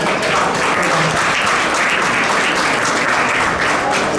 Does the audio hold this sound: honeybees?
no